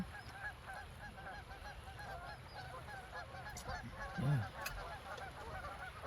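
Geese honking amid a flock, with repeated calls scattered throughout and one louder, nearer honk standing out against a steady noisy background.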